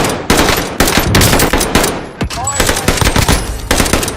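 Gunfire in Call of Duty Warzone, loud close bursts of automatic shots in quick succession with brief gaps between volleys, faint game effects mixed in.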